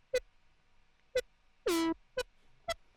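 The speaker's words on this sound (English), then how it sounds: "The main lead sound itself is built in ES2." Synth lead built in the ES2 synthesizer with soft clipping distortion, heard alone: short, punchy stabs spaced about a second apart, with one longer, bright, buzzy note in the middle that bends slightly in pitch.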